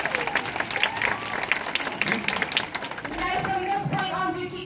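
A crowd at a sea lion show in a UK safari park applauds and cheers. The clapping is close and steady, with scattered shouts, for a few seconds.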